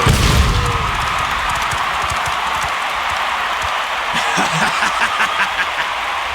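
A crowd cheers in the video game Final Fantasy XIV Dawntrail, a loud, dense roar that holds steady from start to finish with scattered bright shouts on top.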